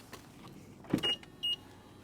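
A soft thud and two short, quiet electric motor whirs follow as the soft-close door of a 2023 BMW iX draws itself shut, close and faint.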